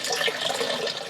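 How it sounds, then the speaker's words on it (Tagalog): Water running from a tap in a camp restroom, a short, steady splashing stream heard close and fairly loud with no voices. "Kapag pala binubuksan yung gripo dito sa may CR, dito sa kabilang pinto, ayan, humihina din yung tubig dito."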